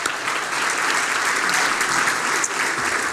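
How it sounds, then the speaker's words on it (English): A banquet audience at an awards evening gives a round of applause for the co-chairs, dense and continuous clapping filling the room throughout. "round of applause for your co-chairs"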